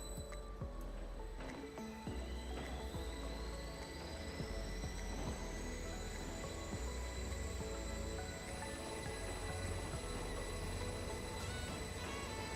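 A train runs in the Roblox British Railway game: a constant loud rumble with a tonal whine rising steadily in pitch as it accelerates, then holding steady, with faint clunks over the continuous drone.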